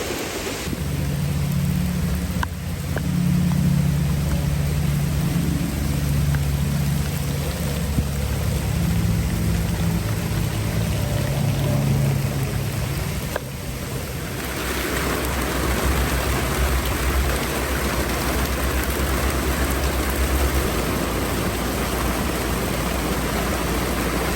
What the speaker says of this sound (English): How's that rain feel now?